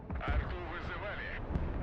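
Called-in artillery fire in the video game Broken Arrow, a brief rumbling roar with muffled impacts and crackling, heard under radio-style voice chatter.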